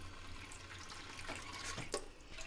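Water runs from a faucet into a clean hotel room sink at a Disney Animal Kingdom Lodge villa, a steady close hiss with a few brief splashes and clatters, no talking.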